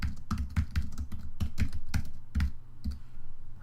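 Quick bursts of keystrokes on a computer keyboard while editing a banner in a software tool, close and crisp, tapping in short uneven runs with small pauses and no talking.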